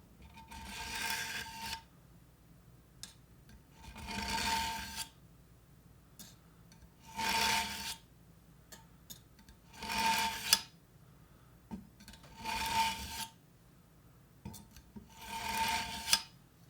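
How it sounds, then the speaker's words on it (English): An As Seen On TV knife sharpener is drawn along a dull, worn knife blade in six evenly spaced, close rasping strokes, each a loud gritty scrape separated by brief pauses, with no talking. "For dull, worn out knives, use 3 to 6 strokes."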